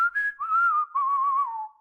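A man whistles a short, clear tune alone, its wavering, sustained notes sliding from one pitch to the next, close and loud, with no talk.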